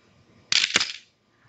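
A camera shutter set to a slow 1/8-second speed fires once, a sharp mechanical snap opening and a second snap closing a fraction of a second later, close and alone in a quiet room.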